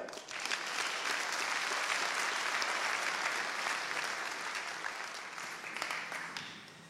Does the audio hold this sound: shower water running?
no